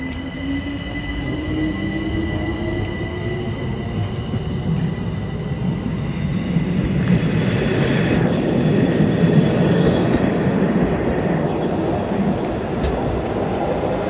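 Jungfrau railway train pulling into a station in the Swiss Alps, a loud continuous rumble of wheels on rails building over several seconds, with high steady wheel squeal and brake whine layered on top.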